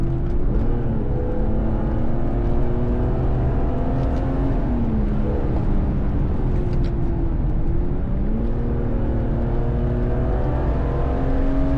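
A BMW M3 E36 with an SMG gearbox launches from a standstill, its engine roaring loud and close as it pulls hard through the gears, with rising pitch sweeps and brief dips at each shift.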